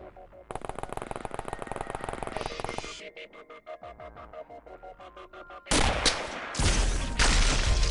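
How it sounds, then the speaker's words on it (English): Rapid bursts of gunfire in the XCOM video game, loud and dense, rattling in quick repeated volleys, then a harsher, heavier barrage toward the end. "Shots incoming."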